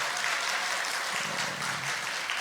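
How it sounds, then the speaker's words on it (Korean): A church congregation claps together during a Sunday worship service, a dense, steady wash of applause that fills the whole moment without pause. "박수로 영광 돌리겠습니다"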